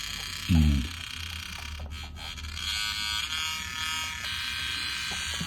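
A Dubreq Stylophone S2 analog synth gives off a steady, harsh electric buzz with wavering tones and brief glitchy dropouts, opened by a short low blip, close and fairly quiet throughout.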